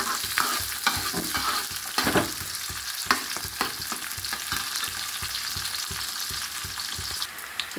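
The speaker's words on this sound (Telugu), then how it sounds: "ఉల్లిపాయలు, పచ్చిమిరపకాయలు వేస్తున్నాను" Sliced onions and green chillies sizzle and fry in a pan for a radish chicken curry, with steady close-up crackling and repeated scraping stirs of a spatula, no voices.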